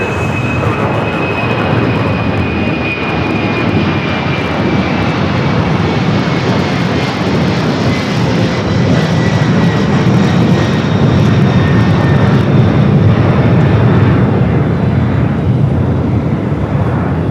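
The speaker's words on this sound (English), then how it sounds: "UPS taking off 25 at left" A UPS cargo jet takes off from LAX runway 25 left, a loud, sustained roar of jet engines with a high whine sliding slowly downward throughout, no voices.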